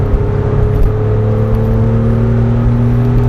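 A Porsche 911 accelerates on the Marcoussis race track, its engine a loud steady drone with a pitch that climbs gradually, heard close and continuous.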